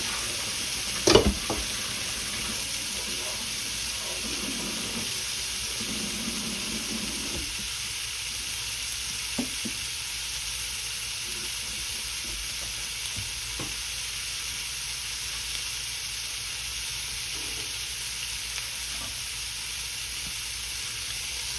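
Shrimp sizzle on a grill for shrimp and grits, a steady low frying hiss running throughout with a sharp clank near the start and a few faint taps, and no one speaking.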